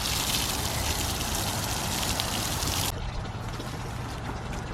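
Water runs in a steady, dense hiss and patter as garden plants are watered in winter. The flow drops off partway through and leaves a softer trickle.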